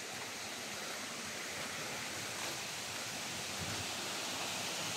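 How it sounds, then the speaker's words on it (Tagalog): A strong forest stream rushes as a steady, loud, broadband roar of water that holds unbroken from start to finish, close by and with no talking. "Diba, napakalakas ng tubig."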